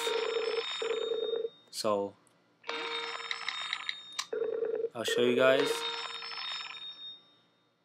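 An iPhone rings with an incoming Skype call over 3G, giving two bursts of a bright electronic ringtone with a steady tone, clear and close. Someone talks in the gaps and over part of it.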